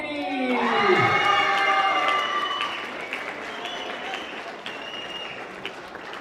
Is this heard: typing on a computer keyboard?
no